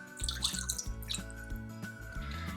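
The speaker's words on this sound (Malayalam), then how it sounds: "അതിലേക്ക് 1 കപ്പ് വെള്ളം ചേർത്ത് കൊടുക്കാം." Water splashes and trickles as one cup is poured into a pan on the stove for a coconut milk pudding, a short, close, fairly quiet liquid sound.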